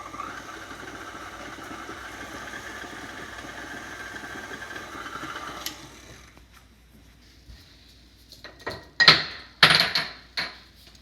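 An electric mixer whirs steadily for several seconds while beating cupcake batter with cream, then stops; a few loud clanks and knocks of the bowl and beaters follow.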